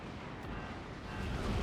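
A cannon fires in the physics-based base-building game Forts, producing a dense, sustained low rumbling boom that swells over under two seconds with no talking.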